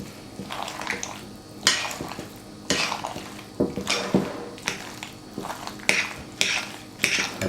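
Macaroni and cheese stirred with a spoon in a cast iron skillet, giving repeated scraping and clinking strokes in an uneven rhythm, close and moderately loud, with no talking.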